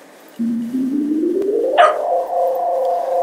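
Synthesized Windsor Hum tone played from a sampler instrument in Ableton Live starts abruptly, a low droning pitch that slowly glides upward, then jumps and settles into a steady, buzzing hum, loud and alone.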